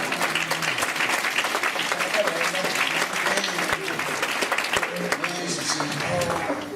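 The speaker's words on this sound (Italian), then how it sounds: "Senti che applauso spontaneo che è venuto." A theatre audience breaks into spontaneous applause at a comedy show, a thick, sustained patter of clapping with scattered voices and cheers mixed in throughout.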